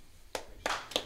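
A live audience gives a few scattered claps at a business leadership Q&A event, roughly three or four sparse bursts close by, with no one speaking.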